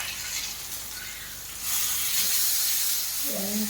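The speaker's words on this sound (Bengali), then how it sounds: "দেখেন ভাজাটা কি সুন্দর হচ্ছে, মাছ ভাজাটা" Fish such as Lalu or tilapia frying in oil on a flat tawa gives a steady close sizzle that grows louder partway through. A brief tonal sound rises near the end.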